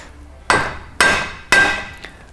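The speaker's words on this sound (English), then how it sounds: "A few gentle taps with a rubber mallet or guarding it so you don't scratch your paint will get your sprocket on there" Three evenly spaced, firm taps of a rubber mallet driving a BMX sprocket onto Odyssey Twombolt cranks, close and alone, each knock decaying before the next, with a faint fourth tap at the end.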